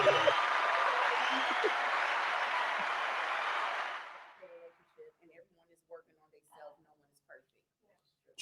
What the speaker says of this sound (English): Give us a hand clap for Malik